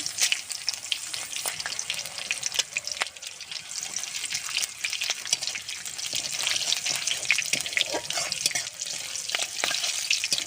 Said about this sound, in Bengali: দিয়ে দেবো কাঁচা লঙ্কা চিরা, গোটা জিরে, তেজপাতা ফোড়ন, চিনি